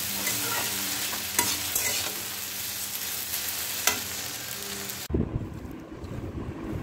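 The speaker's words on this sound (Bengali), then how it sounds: "এবার আমরা এটা একটু ভালো করে নাড়াচাড়া করছি" Lentil paturi with jute leaves is stirred in a hot pan over a steady sizzle, with scraping strokes and a few clinks. The frying hiss drops away abruptly near the end, leaving duller low rumbling.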